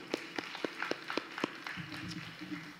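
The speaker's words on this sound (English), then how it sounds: "You can clap for that." Audience members at an adult ESL graduation ceremony clap, with a handful of separate claps in a loose rhythm that thins into a scattered patter.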